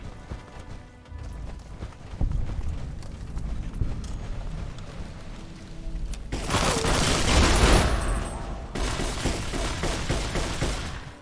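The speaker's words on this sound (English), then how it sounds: "the great machine gun HC is a real funny gun" Rapid bursts of machine gun fire in the video game Fallout: Tale of Two Wastelands, loud and dense, growing heavier toward the middle and continuing in sustained volleys with little talk.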